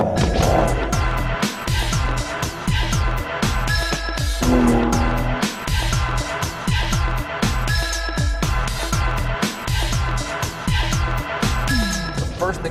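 Aston Martin DBS on the move with a loud, continuous engine note and rhythmic mechanical thumping, gear changes marked by shifting tones and occasional short whines over a busy, dense backdrop.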